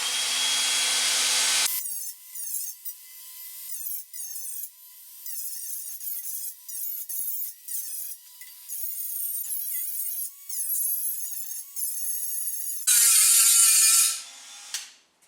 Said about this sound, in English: Now the knob is grinded away so that it looks good.